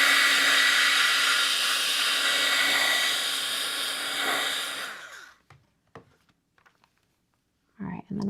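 A heat tool or hair dryer blows steadily close up over freshly painted mail art, a loud whirring hum lasting about five seconds before it switches off, followed by quiet handling noises and a brief voice.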